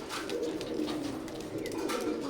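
A pair of lively golden teddy pigeons with red eyes coos in low, continuous throaty rolls close by, with brief higher chirps and no talking.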